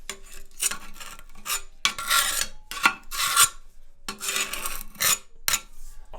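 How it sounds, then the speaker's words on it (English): A putty knife scrapes old wax from a toilet drain hole in short, rasping strokes, about eight or nine bursts with brief pauses between them, close and fairly quiet. "So we can use the putty knife."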